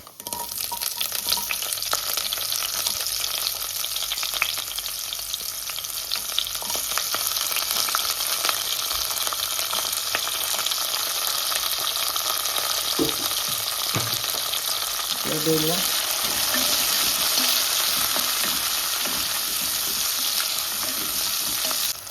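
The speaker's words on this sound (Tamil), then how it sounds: "இப்போ நாங்கள் கட் பண்ணி வச்சுருந்த வெங்காயத்தை சேர்ப்போம்" Chopped onions for a Tamil homemade fish curry fry in hot oil with a steady loud sizzle, broken by a few soft stirring scrapes toward the end.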